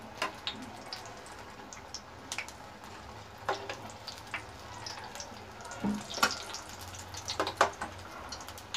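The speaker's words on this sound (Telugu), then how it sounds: "అలా వేసుకొని మీడియం ఫ్లేమ్లో పెట్టుకొని 2 సైడ్స్ మనం ఫ్రై చేసుకోవాలి" Egg Manchurian pieces frying in oil on a medium flame: a soft, continuous bubbling sizzle dotted with small sharp pops and crackles that grow a bit more frequent toward the end, fairly quiet and without talking.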